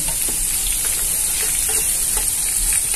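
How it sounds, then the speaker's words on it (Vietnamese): Meat-filled dumplings frying in a pan of hot oil give a steady, close sizzle with small crackles and pops scattered throughout, and no talking. "bánh xếp chiên luôn nha mọi người"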